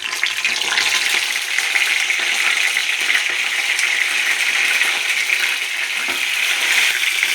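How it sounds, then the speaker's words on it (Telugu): Cut brinjals fry in hot oil in a pan, giving a loud, continuous, close sizzle that holds steady throughout with no talk over it. "హీట్ ఎక్కిన ఆయిల్లో కట్ చేసి పెట్టుకున్న వంకాయల్ని వేప వేప వేపనివ్వాలి"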